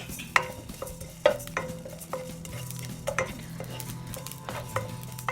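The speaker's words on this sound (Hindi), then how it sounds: "ये देखिए, बस ये हम इसे इस तरह से रोस्ट करेंगे।" A wooden spoon stirs cumin seeds dry-roasting in a pan, giving close scrapes and knocks at uneven intervals over a soft, light crackle; no voices.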